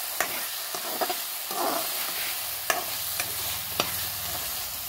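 Vegetables fry in a pan during home cooking, giving a steady sizzle broken by intermittent sharp scrapes and clicks as they are stirred.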